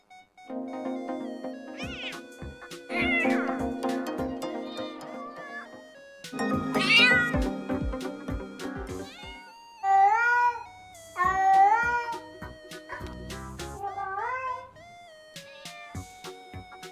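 A cat meows repeatedly, a series of drawn-out, rising and falling cries with short pauses between them, close and clear with no talking.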